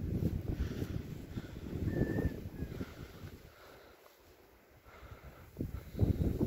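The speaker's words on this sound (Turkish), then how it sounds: "Şansımıza da rüzgar esiyor bugün." Gusty wind on a mountain plateau with melting snow buffets the microphone in uneven rumbling bursts, easing for a moment in the middle before picking up again.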